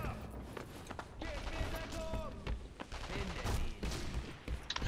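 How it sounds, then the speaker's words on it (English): Gunfire in the video game Sniper Elite V2, with loud sharp shots and bursts cracking repeatedly through a busy stretch of battle noise, along with other game sounds and shouting. "What the hell shot me there? Oh fuck, there's snipers."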